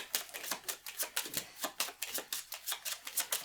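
Playing cards are shuffled during a tabletop card game, giving a rapid series of crisp riffling bursts in an even rhythm, close and fairly loud, with no voices over them.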